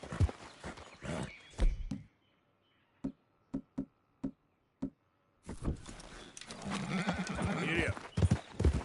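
Horse hooves clip-clop in Red Dead Redemption 2: a run of evenly spaced, crisp hoof knocks on a quiet stretch, framed by louder sections with a rider's voice and busy ambient game sound.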